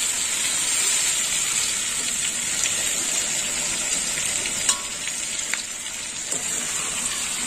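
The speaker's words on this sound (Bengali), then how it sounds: "এবার ভেজে রাখা চিচিঙ্গা, আলু, পটল সব দিয়ে দেবো। দিয়ে দিলাম ভেজে রাখা তরকারি।" Fried ridge gourd, potato and pointed gourd go into a sizzling spice paste in a pan, producing a continuous close frying hiss with a few scrapes and clinks from stirring, and no talking.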